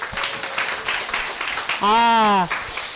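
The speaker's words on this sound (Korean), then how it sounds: "박수 한번 치고 시작하겠습니다" Attendees at a sales training lecture clap together in a short burst of applause, and a voice calls out briefly in the middle of the clapping.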